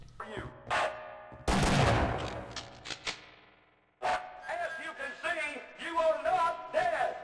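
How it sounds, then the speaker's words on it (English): Gunshots ring out in Half-Life: Opposing Force, a few loud bursts with a long decaying echo, followed by game effects and a voice after a brief silence. "In the next room, you get shot."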